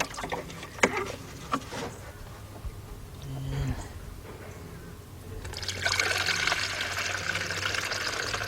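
Antifreeze is poured through a funnel into a 2004 Ford Explorer Sport Trac with a 4.0 engine, a few knocks and faint talk first, then a steady gurgling pour that runs on to the end.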